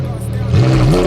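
A Lamborghini Huracan Evo Spyder engine sounds up close and loud, a steady low idle that rises into a rev partway through, with a voice speaking over it.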